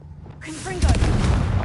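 Confringo spell blast in Hogwarts Legacy, a short whooshing cast leading into a loud booming fiery impact that roars on to the end, with a brief voice just before it.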